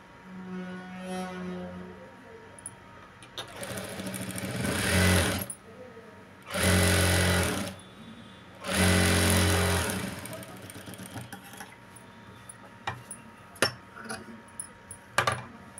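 A sewing machine stitching blouse lining, three loud whirring runs of a few seconds each separated by pauses, followed by scattered clicks and taps of fabric handling.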